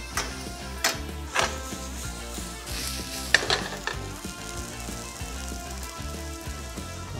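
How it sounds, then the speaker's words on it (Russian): Diced carrots and onion sizzle steadily in a frying pan while a utensil stirs them, with scraping strokes and light knocks against the pan over the constant crackle, close up and with no voices. "О, жаришка пошла."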